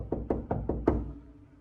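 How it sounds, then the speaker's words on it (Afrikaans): Five firm knocks on a door fall in a steady rhythm, close and distinct, with a hollow thud behind each one, then the room goes quiet. "Die klop so laat hierso."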